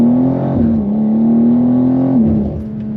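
A BMW G87 M2 engine revs loudly and steadily, its pitch dipping and rising slightly over a few seconds, close and continuous with no talking.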